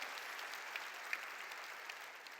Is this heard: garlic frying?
no